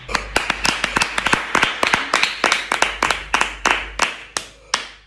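Clapping welcomes a new student arriving in a classroom, a burst of hand claps with sharp, uneven strikes that keep going for about five seconds before thinning out near the end.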